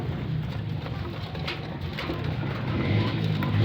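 Pigeons being fed make a soft, steady bird murmur with faint cooing, heard continuously at moderate level with no talking.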